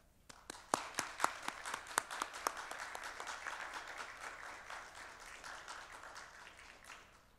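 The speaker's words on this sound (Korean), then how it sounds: "우리 김형국 목사님 나오실 때 우리 큰 박수로 환영해 주시면 감사하겠습니다" Applause from a church congregation welcoming a pastor, starting with a few sharp, distinct claps that quickly build into a steady, moderate round of clapping heard from a distance.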